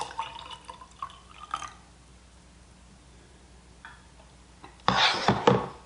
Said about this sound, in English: now I'm just going to top the rest of these off with water that need it.